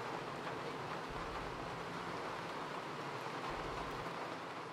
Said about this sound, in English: Is it raining?